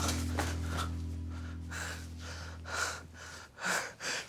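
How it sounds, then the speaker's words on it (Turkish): Heavy panting after running: close, rhythmic gasping breaths come in quick bursts over a low background hum. "Hayırdır, nefes nefese kalmışsın."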